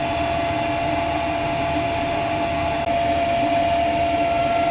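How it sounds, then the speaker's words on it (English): A small hair dryer blows air into a coal forge used for heat-treating a knife blade, a steady, loud whooshing drone with a constant hum, running unbroken and alone. "Got it powered with a little hair dryer. It's blowing the air in there"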